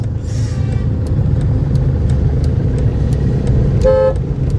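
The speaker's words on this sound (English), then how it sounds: "So this is the traffic, guys." Dense city traffic in Rameshwaram rumbles steadily close by with engines and tyre noise, while a car horn gives one short toot near the end.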